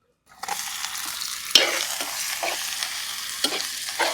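Chicken pieces dropped into hot oil with softened onions and green chillies hiss into a loud, steady frying sizzle, with a sharp burst at the drop and several scraping stirs of a spatula in the pan.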